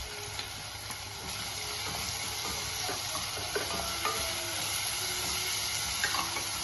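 Crushed shallots and green chillies sautéing in a pan, a steady soft sizzle with occasional stirring clinks and scrapes, continuous and close throughout with no voices.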